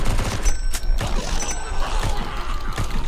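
Shots from a slow-firing gun in a zombie video game, repeated bursts of gunfire with a mechanical rattle, fairly loud and dense, under a constant backdrop of game noise.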